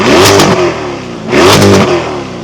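A stationary 2025 Chevrolet C8 Corvette with a quad exhaust revs twice, each loud throttle blip swelling into a rich roar and then settling back, close and alone.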